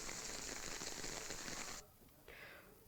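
Heavy monsoon-season rain in Uttarakhand pours steadily as a dense, loud hiss, then briefly drops away and returns somewhat softer.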